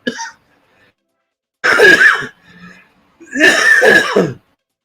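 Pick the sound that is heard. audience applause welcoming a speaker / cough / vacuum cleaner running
cough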